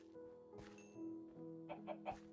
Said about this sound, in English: You got a baby chicken?